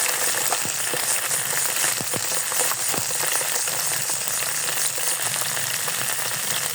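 Cumin, onion and garlic paste sizzle steadily in a hot pan of oil while pangas fish bhuna is being prepared, a dense continuous frying hiss with a few soft stirring clicks and no voices.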